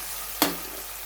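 Onions with salt and whole spices hit hot oil in a pan, making a sudden loud sizzling burst that quickly settles into a softer, fading fry.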